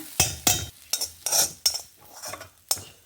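A metal spoon scrapes and clinks against a pan and bowl as cooked bitter gourd dry palya is transferred, sharp knocks arriving in an uneven series of about eight close, distinct strikes.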